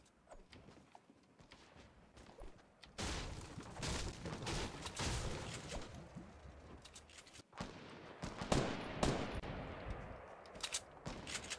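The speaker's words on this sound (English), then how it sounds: "Guns are going off." Gunfire in Fortnite: scattered bursts and rapid volleys of shots at varying distances, some sharp and loud, others distant crackles, with no talk over them.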